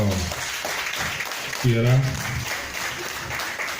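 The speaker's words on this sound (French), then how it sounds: "Applaudissez fort le major" Guests at a retirement party in Bembèrèkè applaud a retiring major, a moderate, steady wash of clapping running throughout while a voice speaks over it.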